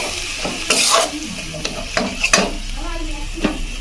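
Coconut sweet filling for palm pitha being stirred in a pan over low heat, with scraping spoon strokes and a few clinks against the pan over a soft steady sizzle.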